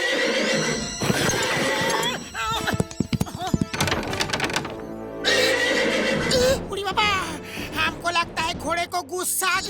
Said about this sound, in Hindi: वो देखो, घोड़ा खुला घूम रहा है, ऐसे तो वो बाहर भाग जाएगा।